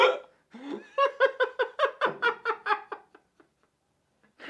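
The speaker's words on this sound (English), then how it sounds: "I can't get rid of these hiccups." A man at a live podcast hiccups about a dozen times in quick rhythmic succession, each hiccup voiced and loud, close to the microphone, blending into laughter-like bursts before trailing off into near silence.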